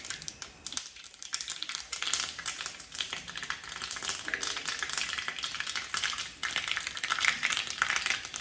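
Mustard seeds splutter in hot oil in a pan, a dense, crackling sizzle of rapid pops that carries on steadily and close throughout, with no voices.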